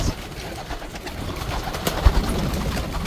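Racing pigeons in a Taiwan-style loft coo softly in a steady low murmur, with a few louder thumps of movement near the end and a faint background hiss.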